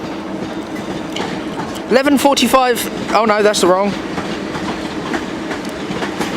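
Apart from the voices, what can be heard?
South Western Railway train pulling in at London Waterloo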